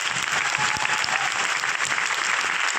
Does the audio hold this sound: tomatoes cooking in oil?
no